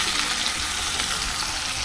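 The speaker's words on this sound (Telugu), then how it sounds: "ఉల్లిగడ్డలు ఎర్రగా వేగేదాకా వేయించుకోవాలి" Steady, bright sizzling of onions frying in oil until browned, continuous and close, with faint stirring underneath.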